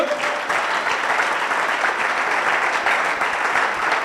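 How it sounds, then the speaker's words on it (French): A church audience applauds after a pastor is called forward at a debate event on choosing a spouse, steady dense clapping filling the room at an even level throughout. "Est-ce qu'on peut applaudir, mesdames et messieurs?"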